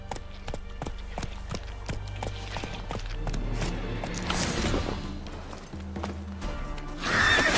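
Hooves of Geralt's horse Roach in The Witcher 3, a steady clip-clop of loud, close hoofbeats that slows and stops, with a whinny, a brief voice, and a rising whoosh at the end.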